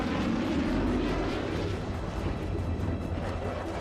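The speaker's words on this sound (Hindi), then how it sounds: "ये है यूरोफाइटर टाइफून लड़ाकू विमान।" Steady, loud roar from a missile-armed Eurofighter Typhoon fighter jet at an airbase hangar, a dense unbroken rumble that holds throughout.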